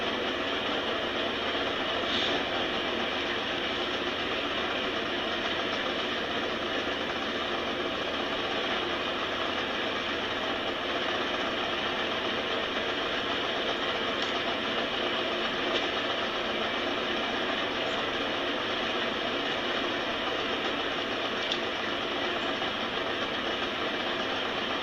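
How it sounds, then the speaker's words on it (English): Snowmobile engines idle and rumble outdoors in a snowy setting, a steady, dense, continuous drone that stays loud and unchanging for the whole stretch with no voices over it. "with the snowmobiles running, they won't be able to hear you"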